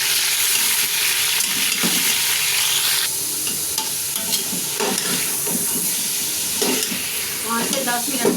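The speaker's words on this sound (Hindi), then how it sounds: "पाँच से 10 मिनट तक हमने इसको ना भून लेना" Beef sizzles and fries steadily in a pressure cooker while being stirred, with occasional scraping clinks from a spoon.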